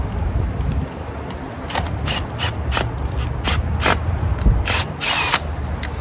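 A power tool reams out a hole in a railing post, a continuous grinding, ratcheting drone broken by sharp, repeated clicking bursts, close and fairly loud.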